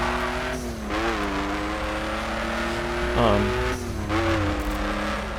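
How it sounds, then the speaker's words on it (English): A Hummer in the racing video game The Crew accelerating hard, its engine tone climbing in steady harmonic sweeps with gear shifts and a brief tire squeal, loud and continuous throughout. "that is a Hummer doing 100 miles an hour in less than 30 seconds"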